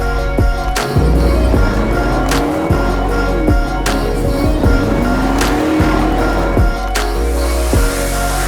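A Mercedes G-Class drives hard off-road through mud and bogs, its engine revving loudly and rising in pitch up close, with thumps and bumps from the rough terrain and no talking.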